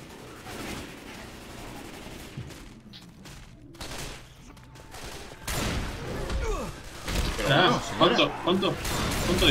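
Gunfire in the zombie shooter Left 4 Dead 2, with bursts of shots and crashing impacts that grow louder and denser toward the end, mixed with game noise and a player talking over it.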